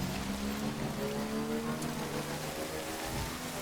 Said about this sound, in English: it's gone all rainy